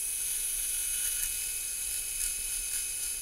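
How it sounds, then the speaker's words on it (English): A high-pitched whining surgical drill runs steadily while drilling for locking bone screws in a proximal humeral plate procedure, a continuous faint hum with slight rhythmic pulses and no talk. "you're going to use the blue tower and the blue drill."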